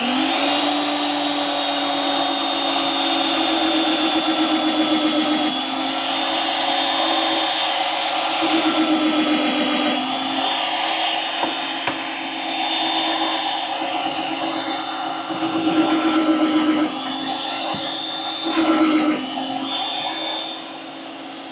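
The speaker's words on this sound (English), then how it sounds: "turn the drill on" Magnetic drill running steadily while countersinking holes in metal at a drill station, a loud continuous motor whine and grinding hum with a few surges as the cutter bites, close by with no talking.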